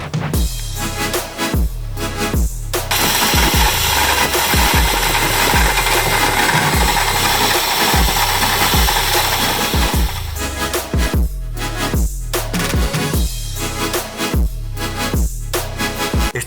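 Metal lathe cutting a cone on a revolver drum for a decorative pencil holder, a loud steady broadband scraping roar that runs for most of the stretch, framed by rhythmic low thumping machine noise before and after.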